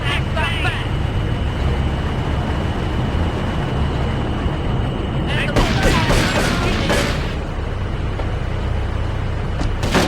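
Gunfire breaks out during a triad ambush in Grand Theft Auto III, with a burst of sharp shots around the middle over a steady engine and traffic rumble.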